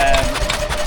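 A 1915 Montgomery Ward stationary engine built by Ford's foundry runs steadily at a country show, a loud, close mechanical drone with a rapid regular pulse.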